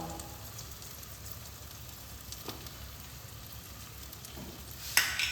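Ground spices (cumin, turmeric and red chilli powder) with salt fry in oil in a pan for a Bengali katla fish kalia, a soft, steady sizzle with light stirring clicks and a sharp clatter near the end.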